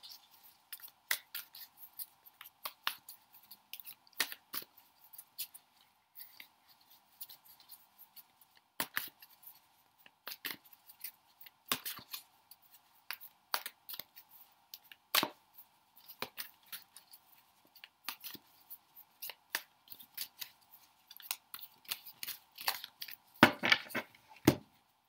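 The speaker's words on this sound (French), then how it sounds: "on mélange les cartes" Tarot cards shuffled by hand, a long run of soft riffling snaps and taps in irregular bursts, close and quiet over a steady faint hum, building to a denser flurry at the end.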